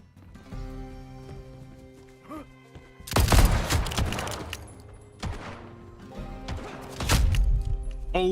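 Gunfire from desperados in the Legend of California open world western survival game, a few heavy, loud blasts with crackling tails separated by quieter stretches of ambient farm sound and tonal music.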